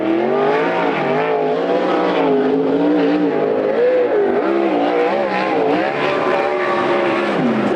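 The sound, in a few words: sprint race cars qualifying on Coos Bay Speedway track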